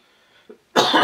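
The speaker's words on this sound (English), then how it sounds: "Had a little bit of a cough lately." A single loud, harsh cough bursts out close by after a brief quiet moment, preceded by a small throat sound.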